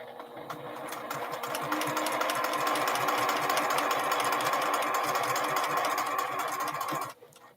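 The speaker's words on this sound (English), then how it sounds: "But I'm not alone because I want to try to sew anyway." A sewing machine stitches quilt binding, its rapid, even mechanical clatter rising after a brief start, holding steadily up close, then stopping abruptly just before the end, with no voices.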